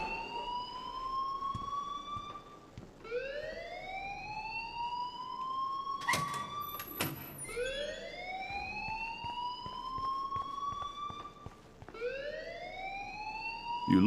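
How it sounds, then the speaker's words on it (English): In the video game Life is Strange, a fire alarm wails in rising, repeated siren sweeps, each climbing in pitch and restarting every few seconds, loud and continuous with brief clatter between cycles. "please turn off that alarm"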